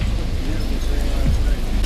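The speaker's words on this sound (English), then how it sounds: "Here comes the hail." Hail falls during a thunderstorm, a steady, dense rushing patter of ice striking surfaces close by, loud and unbroken throughout with no voices.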